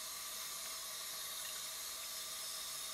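Tap water runs steadily into a bathroom sink to rinse off a L'Oréal face mask, a continuous hissing wash at close range with no speech over it.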